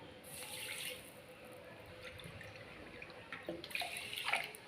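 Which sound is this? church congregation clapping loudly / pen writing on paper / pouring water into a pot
pouring water into a pot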